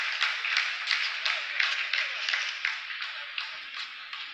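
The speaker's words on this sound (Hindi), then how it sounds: "आप इस तालियों के गड़गड़ाहट को सुन सकते हैं" A distant crowd of scientists applauds steadily after the Chandrayaan-3 Moon landing, a dense patter of many hands clapping that carries on throughout at a moderate, even level.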